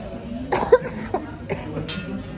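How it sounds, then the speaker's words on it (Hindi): A person with a severe cough coughs several times in short, close bursts, fairly loud, with quiet background noise between the coughs. "अभी तो मुझे खांसी, एक्सट्रीम लेवल वाली खांसी हो रही है"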